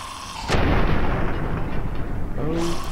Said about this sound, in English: so if I just take a frag grenade